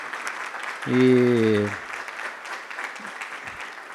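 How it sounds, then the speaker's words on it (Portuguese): Applause for an audience member at a talk on projections and outlook for 2024 fills the room as a steady wash, with a brief sung or spoken voice near the start rising briefly above it. "eu queria uma salva de palmas"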